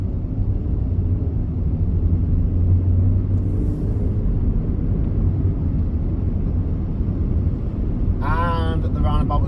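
A learner's car on a hill start during a driving test in Hull gives a steady, loud low engine rumble from inside the cabin throughout, with a voice speaking briefly near the end.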